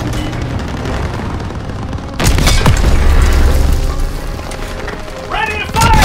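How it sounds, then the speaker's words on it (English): A Panzer tank explodes in Call of Duty WWII, a sudden heavy boom with a long low rumble that lingers over the battle din, as game voices call out near the end. "Enemy tank destroyed!"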